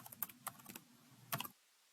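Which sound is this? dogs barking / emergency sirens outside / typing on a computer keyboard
typing on a computer keyboard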